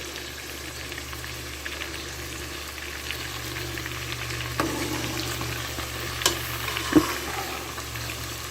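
Sausage fries in a pot with fat, giving a steady, moderate sizzling and bubbling hiss with a few soft clicks and small pops and no talking.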